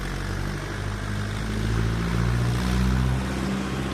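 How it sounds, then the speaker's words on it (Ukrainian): A tractor drives past outdoors, its low, droning engine hum swelling louder toward the middle and then easing slightly, with no talking over it. "зараз їде трактор"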